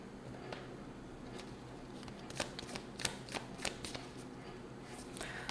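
Oracle cards from a Moonology deck being shuffled and drawn, giving soft papery riffles and a run of crisp snaps in the middle, fairly close and quiet over low room noise.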